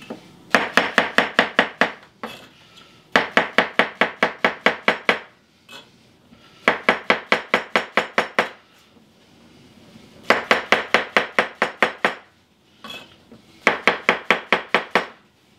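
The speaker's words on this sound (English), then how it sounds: "After you slice it, once again, I just run my knife through it a little bit." A knife slices and chops mushrooms on a board in fast, crisp bursts of close taps, about ten per burst, with short pauses between five runs.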